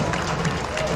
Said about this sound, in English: Go give them a round of applause.